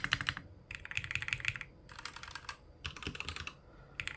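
Typing on an AULA Wind F68 keyboard with Royal Kludge Cyan switches, bursts of quick, clicky keystrokes in close succession broken by short pauses, heard up close and alone.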